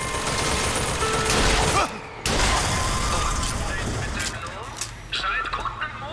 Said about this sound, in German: Der ist echt knüppelhart, der Revolver.